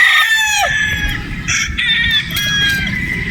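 Gamefowl roosters, brood stags and battle stags, crow loudly and close with drawn-out calls, while clucks and a squawk break in between them.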